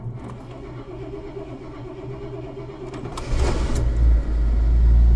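An older GMC motorhome engine cranks and fires up after two weeks of sitting, settling into a steady low idle that grows louder and rougher toward the end, close by with no talking.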